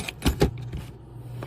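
Small metal Allen keys jangle in a brief, close rattle, with two sharp clinking bursts followed by softer handling clicks, during cleaning of a Taurus G2C/G3C pistol.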